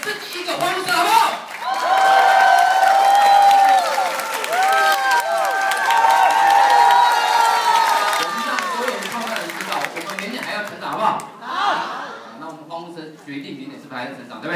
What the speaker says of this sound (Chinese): 给自己一个欢呼声好不好？